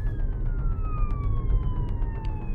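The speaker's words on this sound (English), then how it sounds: "Slow down for the ambulance." An ambulance siren wails steadily in the distance, its pitch sliding slowly downward over a loud, rumbling road noise from inside a moving Tesla.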